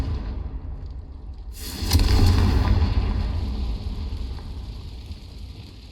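A Confringo spell blast bursts in Hogwarts Legacy, a sudden loud explosive whoosh that hits sharply and then fades into a lingering rumble over steady background ambience.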